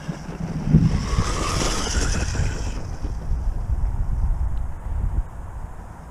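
Electric RC truggy driven at full throttle over boggy ground outdoors, a rising motor whine in the first seconds and then a rough, steady rumble of tyres and drivetrain, moderately loud.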